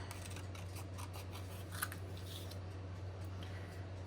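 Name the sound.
scissors cutting out earring pieces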